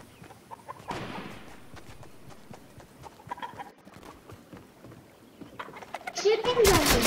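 A few scattered chicken clucks amid footstep-like clip-clop sounds and other Fortnite game noises, with a voice talking over parts of it; a louder squawk near the end.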